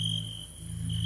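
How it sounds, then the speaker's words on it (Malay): Crickets chirp at night in a quiet setting, a steady, continuous high trill that carries on alone over a faint low background hum. "Yang kedengaran hanyalah bunyi cengkerik dan unggas malam."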